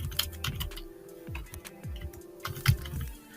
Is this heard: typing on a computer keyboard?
yes